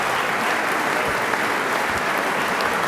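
Many people clap steadily in a legislative chamber, a thick, continuous patter of applause at even volume, with nothing spoken over it.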